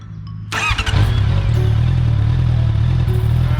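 A Honda CBR650R motorcycle engine starts with a clatter and then revs briefly before settling into a loud, rumbling idle, close by.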